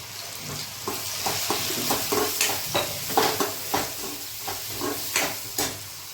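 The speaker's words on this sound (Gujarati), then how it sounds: "હિંગ નાખશું, હળદર નાખશું, કાશ્મીરી મરચું નાખશું" Asafoetida, turmeric and Kashmiri chili sizzle in hot oil for Kathiyawadi-style ringan no oro, a steady soft frying hiss broken by regular light taps of stirring, close and fairly quiet.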